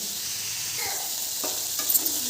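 Food frying in a pan with salt and turmeric, stirred with a utensil; a steady broadband sizzle runs throughout, with a few scraping stir strokes near the middle and end, close by and with no one talking.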